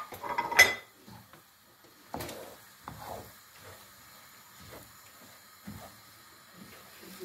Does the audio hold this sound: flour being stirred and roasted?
yes